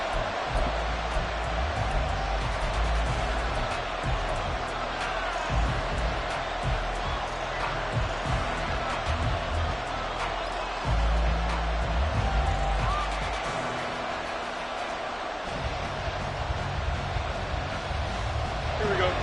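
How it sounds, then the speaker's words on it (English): Stadium crowd at a football game, a dense steady roar filling the background throughout, with commentators talking over it. "this crowd making it hard to hear"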